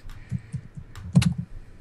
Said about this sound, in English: Somebody's typing angrily.